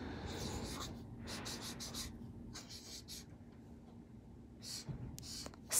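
Pen or pencil writing small on paper during a math lesson about describing a button, a soft scratchy rasp in bursts separated by short pauses, close and quiet over a faint steady hum.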